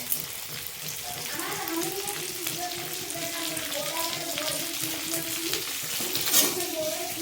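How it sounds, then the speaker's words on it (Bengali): Garlic and onion frying on a high flame in a pan for restaurant-style chili chicken, a steady close sizzle with stirring scrapes running throughout, a brief louder burst near the end, and faint background voice. "হাই ফ্লেমে এটাকে ভেজে নিতে হবে রসুনটা ভাজা হয়ে এলেই একটুখানি এবার দিয়ে দেবো এর মধ্যে পেঁয়াজ"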